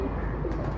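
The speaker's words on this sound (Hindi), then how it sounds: "ये कितने कबूतर उड़ रहे हैं आपके?" Rare desi pigeons at a loft fill the air with a dense, low, continuous cooing that sounds close and steady.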